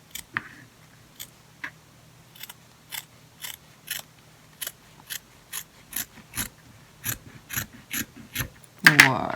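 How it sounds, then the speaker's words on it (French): Scissors snipping through material for a homemade anti-static pouch for heat embossing, a steady series of sharp close cuts about once a second, with a louder rustle of handling at the end. "je vais le couper là. Je vais peut-être prendre un autre ciseau"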